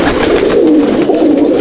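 Malbai/Panjabi pigeons cooing inside a loft, with a steady, close murmur of soft overlapping coos lasting throughout, loud and continuous.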